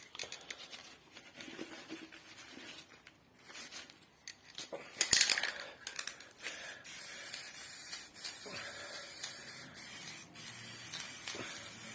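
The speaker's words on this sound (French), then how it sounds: "je suis sur un fond de bombe" A nearly empty spray paint can hissing outdoors in short, uneven bursts, then a longer steady spray sputtering toward the end, close by and faint.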